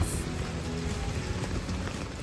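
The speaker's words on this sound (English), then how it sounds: "On my way home, it is pouring rain." Heavy pouring rain hammers down on surfaces all around in a dense, steady hiss and patter, loud and unbroken throughout.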